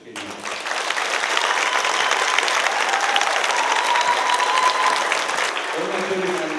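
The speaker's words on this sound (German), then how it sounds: "ein großes Dankeschön, einen großen Applaus für Frau Kamal" An audience applauds at an indoor Advent-season event in Germany: dense, steady clapping from many hands that swells quickly, holds for about six seconds, then eases slightly at the end.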